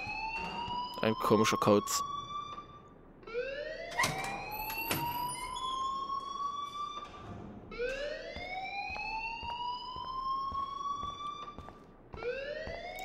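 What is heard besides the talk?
school alarm ringing in the video game Life is Strange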